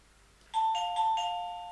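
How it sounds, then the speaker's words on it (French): A clear electronic doorbell chime, emulated by a Lilygo T-Embed CC1101, rings out after a short silence, a few bright tones sounding in sequence and then lingering. "Voilà, j'ai ma sonnette. Donc ici, je vais l'émuler."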